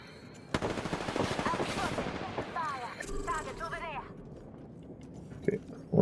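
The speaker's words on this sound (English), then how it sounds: "someone's taking shots at us" Rapid automatic gunfire from the Apex Legends video game rattles loudly in a sustained burst, then trails off into quieter shots and game effects.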